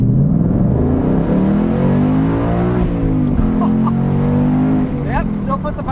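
Ford Mustang on Continental ExtremeContact DWS06 Plus tires accelerating hard, a loud, close engine note rising steadily in pitch through the gears with a brief dip at a shift, while a person talks over it.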